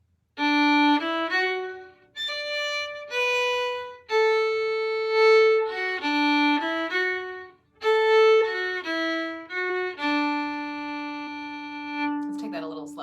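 Solo fiddle plays the old-time waltz Midnight on the Water at an easy beginner pace, clear bowed notes rising and falling in a steady lilting line, close and alone.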